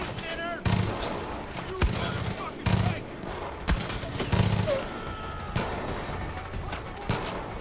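Gunfire in the shooter game Far Cry 5: sharp shots and bursts crack out in irregular clusters across the stretch, fairly loud, over a busy game-sound bed.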